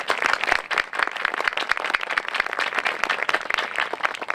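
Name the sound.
applause for the school board members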